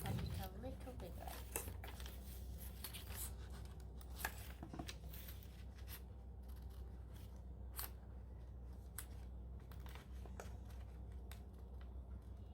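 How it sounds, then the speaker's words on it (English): Scissors snip paper while making a Father's Day card, several short crisp cuts at close range, interspersed with paper rustling and handling, alongside a person speaking quietly. "Cut there, open, and oops, I need to cut it a little bigger."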